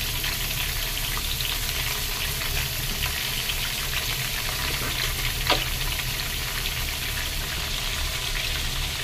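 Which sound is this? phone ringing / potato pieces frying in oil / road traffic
potato pieces frying in oil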